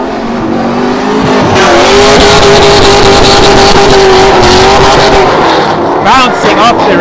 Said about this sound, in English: Bouncing off the rev limiter.